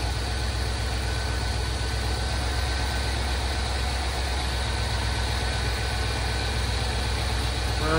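A Ford 7.3 gasoline engine idles steadily and close by, a constant low rumble with an even, unbroken drone and no other sounds over it.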